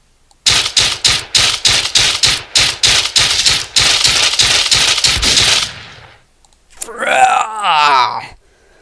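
Rapid bursts of gunfire from the top-down shooter game Deadbolt, about a dozen loud evenly spaced shots over five seconds, followed after a brief pause by a warbling, moaning in-game vocal sound.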